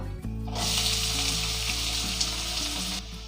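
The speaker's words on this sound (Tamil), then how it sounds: "இந்த வெங்காயம் நல்லா வதங்கி பொன்னிறமாகணும், அது வரைக்கும் இதை நல்லா வதக்கி எடுத்துடலாம்." Two medium onions, finely chopped, fry in hot oil with a loud, continuous sizzle that swells in after a brief stir and holds steady, heard close up.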